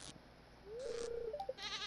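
Farm animals in the video game Stardew Valley, among them goats and cows, give a short, quiet bleat with a rising then wavering tone, followed by a few brief chirpy game sounds.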